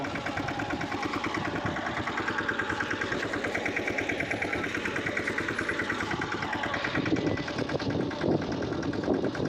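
A small walk-behind mini tractor engine runs steadily at idle, a constant chugging drone with light vibration, close by on a peanut farm and with no speech.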